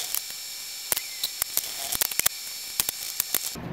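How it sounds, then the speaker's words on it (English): A small brass wire brush scrubs rust off steel brake abutment clips from a 2013-2019 Nissan Sentra brake job. It sounds like a steady hiss of scratching, broken by sharp scraping strokes and clicks over a few seconds. "I got a little brass brush I'm gonna hit these with."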